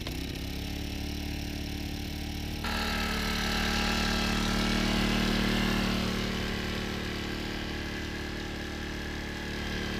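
Small gasoline generator mounted on an e-bike, running with a steady droning hum and light mechanical clatter, its pitch rising slightly midway and then settling, close and continuous with no voices.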